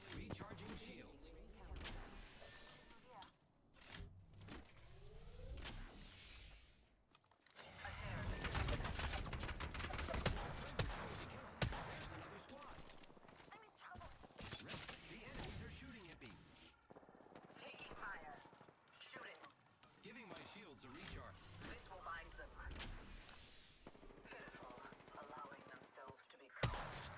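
Gunfire in the video game Apex Legends: repeated shots and bursts of varying loudness scattered across a long stretch, mixed with game voice callouts and other battle noise.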